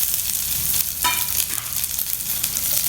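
Dry red chillies and onions stirred in a hot pan, sizzling and frying steadily with scraping stir strokes, close and fairly loud, with no talking.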